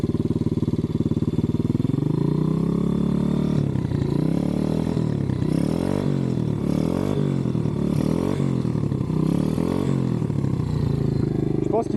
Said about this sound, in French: Vu qu'elle est en rodage, on va y aller tranquille. Je vais rouler progressivement avec.